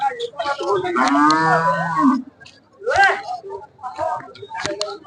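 HF dairy cattle at a cow market in Kalghatgi, Karnataka, give loud, drawn-out moos close by, one long call and then shorter ones, with people talking in the background.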